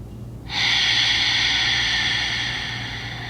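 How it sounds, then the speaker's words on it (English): One slow, deep breath is drawn in with a steady airy hiss close to the microphone, then eases gradually toward the end, as in a chair yoga breathing exercise for seniors. "slow deep breaths. 2 more breaths. And one last breath."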